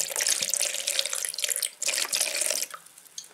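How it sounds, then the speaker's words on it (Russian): Vodka poured from a bottle into an empty cup gives a continuous, close splashing trickle that wavers and breaks up near the end, with no talk. "Берем нашу водку. Пахнет? Пахнет водкой? Пахнет. Мы ее туда выливаем."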